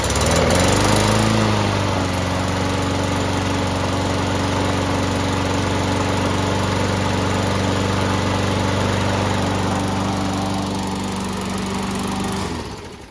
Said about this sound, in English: So we'll prime it up and we'll see if it'll start up.